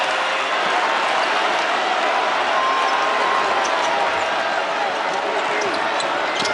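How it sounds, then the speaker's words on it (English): North Carolina home crowd roaring at a Wake Forest–UNC basketball game, a dense, steady wall of cheering and arena noise holding loud throughout, with no pause. "This North Carolina crowd wanting to erupt over another defensive stop."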